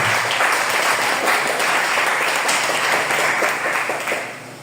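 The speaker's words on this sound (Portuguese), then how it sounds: "Vamos dar uma salva de palmas para Jesus?" A church congregation bursts into dense, loud applause for Jesus during a worship service, a continuous wash of clapping that holds steady and then fades slightly toward the end.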